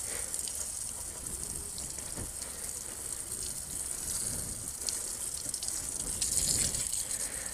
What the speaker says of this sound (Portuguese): A água tá fraca.